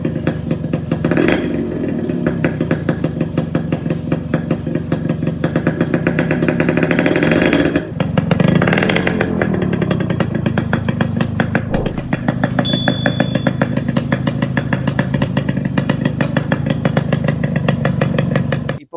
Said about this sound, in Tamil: இந்த வண்டியோட சவுண்ட் எப்படி இருக்குன்னு பார்க்கலாம்